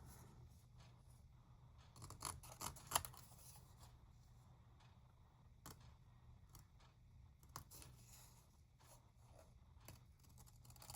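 Scissors snip through paper for a pin craft, making quiet, close, irregular cuts and rustles with a few sharper clicks.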